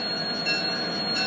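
Great Northern 400 locomotive train passing through Withrow, a brief steady rail rumble with faint wheel squeal and hiss, no voices.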